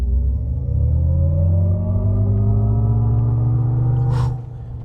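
Inside a 2026 Hummer EV during a 0 to 60 launch, the synthetic piped-in drive sound makes a loud, low droning hum that rises steadily in pitch, then eases off near the end.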